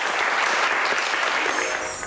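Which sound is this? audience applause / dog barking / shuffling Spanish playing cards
audience applause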